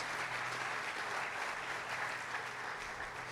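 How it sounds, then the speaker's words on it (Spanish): A church congregation applauds together, a dense, steady wash of many hands clapping that holds evenly for a few seconds at moderate distance, with no distinct voices on top. "Dale un aplauso fuerte a Dios."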